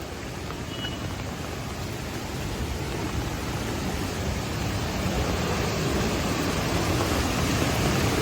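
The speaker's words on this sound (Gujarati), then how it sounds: "એટલો મસ્ત વરસાદ આવે છે," Steady, dense rain pours outdoors at Bhandardhara in Maharashtra, a continuous broadband wash that swells slightly louder over the span, with no talking.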